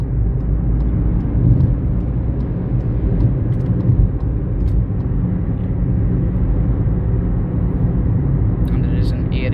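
Car engine rumbling steadily from inside the cabin as it speeds up to overtake another vehicle, a loud low drone with road noise and a voice speaking over it.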